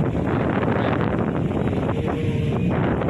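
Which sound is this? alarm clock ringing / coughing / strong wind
strong wind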